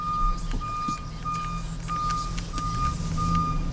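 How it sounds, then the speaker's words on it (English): A 2007 Chevrolet Silverado 1500 LT 4x4 pickup backs up, its reversing alarm sounding a steady series of evenly spaced beeps over a continuous low engine hum, with no voices present. "And the vehicle moves in reverse."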